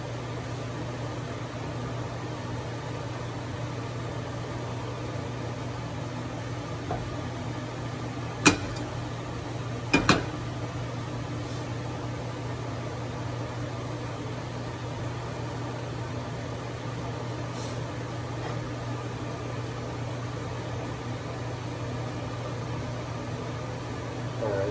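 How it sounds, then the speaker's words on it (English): A kitchen ventilation hood fan runs with a steady low hum and airy whir throughout, broken by a couple of brief clicks. "I'm gonna hit the ventilation on."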